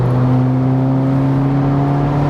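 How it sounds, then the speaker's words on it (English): A 400 bhp Volkswagen Polo GTI accelerating in fifth gear drones with a steady low exhaust hum, smooth and continuous, close by, with no voices. "The tone of the exhaust is really nice as well."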